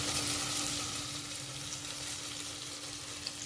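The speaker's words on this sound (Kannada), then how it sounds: "ಈರುಳ್ಳಿ, ಬೆಳ್ಳುಳ್ಳಿ, ಜೀರಿಗೆಯನ್ನು ಹಾಕಿ ಒಂದು ಸುತ್ತು ತಿರುಗಿಸ್ತೀನಿ" Onion, garlic and cumin sizzle steadily in a hot pan as they are stirred, a dense close frying hiss with no talk.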